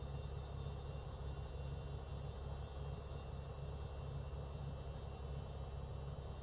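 A propeller aircraft engine drones steadily in Microsoft Flight Simulator during a bush trip over Germany, producing a constant, even hum with a low throb and no other sounds.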